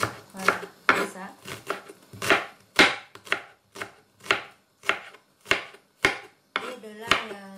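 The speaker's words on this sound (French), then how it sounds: "Et je coupe pas trop grand, pas trop petit non plus" A knife chops shrimp (gambas) on a cutting board, about a dozen crisp, evenly spaced strikes at close range, with a faint voice now and then between cuts.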